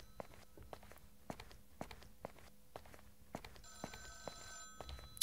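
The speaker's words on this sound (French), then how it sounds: "il faut que je redescende en bas, quoi, pour aller répondre au téléphone" In a horror video game, a telephone rings in short bursts toward the end, while evenly paced footsteps tap steadily throughout at low volume.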